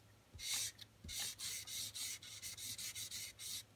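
A marker draws lines on origami paper for an easy Chewbacca fold: a quick series of close, faint scratchy strokes, first a few longer ones, then a rapid regular run of short strokes.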